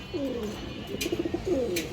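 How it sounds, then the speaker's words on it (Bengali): A large male pigeon coos softly nearby, a short series of low throaty burbling notes rising and falling, heard alone against a faint background hum. "বড় সাইজের একটা কবুতর"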